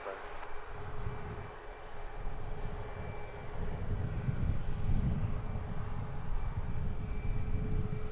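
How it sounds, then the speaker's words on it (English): A Ryanair jet at Luton Airport at sunrise sends a low, fairly distant engine rumble that gradually builds and grows rougher, with a steady hum beneath. "Second Ryanair joining the queue of 2 to make it a hat-trick of departures"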